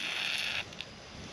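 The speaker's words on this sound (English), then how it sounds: "here it comes, I hear air." A brief, steady rush of hissing air out of a sod farm irrigation pipe that cuts off abruptly, followed by a small click and a quieter, fading hiss.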